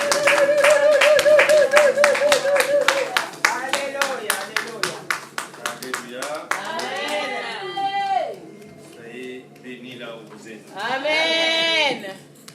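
A congregation in a church claps loudly and steadily. Cheers and drawn-out vocal shouts rise over the clapping, and a voice can be heard through it.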